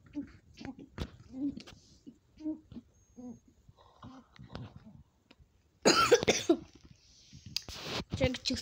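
Someone coughing after drinking too fast, a burst of loud harsh coughs in the latter part following quieter talk, close to the microphone, with more talk afterward.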